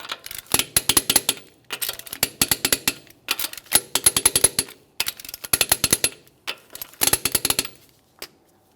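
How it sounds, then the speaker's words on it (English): Torque wrench tightening the front wheel lug nuts of a 2008-2017 Mitsubishi Lancer to 80 foot-pounds in a crisscross pattern: several bursts of rapid, sharp ratcheting clicks separated by short pauses, loud and close, with no talking. "We're going to be torquing these to 80 foot-pounds in a crisscross manner."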